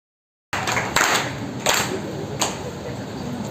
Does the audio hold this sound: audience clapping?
yes